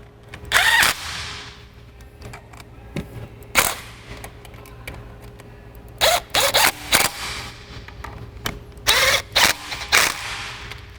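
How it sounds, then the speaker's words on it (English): Impact wrench running in bolts on a Hellcat supercharger, loud short rattling bursts close up, a few at the start and then quick clusters in the second half, with quiet gaps between them. "I'm gonna just run these in with this impact because it makes it a little bit faster."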